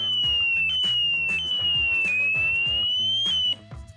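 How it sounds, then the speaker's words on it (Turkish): A shrill 120-decibel motorcycle disc lock alarm whoops continuously, its pitch sliding up and down over pulsing tones, loud and close, then abruptly stops. "120 desibel bir alarm sesi var"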